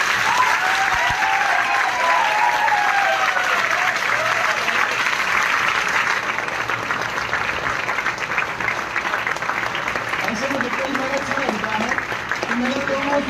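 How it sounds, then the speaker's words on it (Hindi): Students in a coaching classroom clap loudly together, a sustained, dense burst of applause filling the room, with a teacher's voice talking over it near the end. "एक बार और जोरदार ताली बजाओ।"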